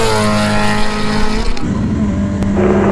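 Race cars lap the Willowbank national circuit during qualifying, their engines loud and near, with a rising, sustained roar and revs shifting as cars pass.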